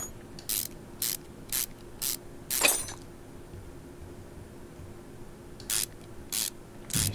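Quick bursts of a ratchet wrench loosening engine cover bolts in Car Mechanic Simulator 2021, five short clicking runs, one with a rougher scrape, then a pause before three more bursts, close and clear with no talk.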